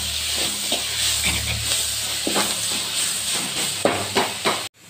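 Potato is stirred in a pan with salt and turmeric, a steady sizzle and hiss running throughout while a spoon scrapes and clinks in repeated strokes close by.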